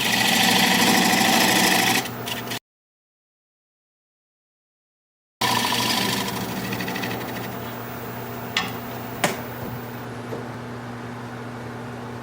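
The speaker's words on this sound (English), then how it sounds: "I switched to a swept back gouge to work on my tenon here." Wood lathe spinning a junk-wood bowl blank while a swept back gouge cuts the tenon, a loud steady whir and cutting hiss that stops, then resumes with a few sharp knocks as the tool contacts the wood.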